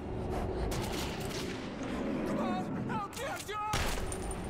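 Gunfire in the video game Metro 2033 Redux: a dense, continuous barrage of shots and rumbling blasts with metallic ringing tones, loud throughout the short stretch.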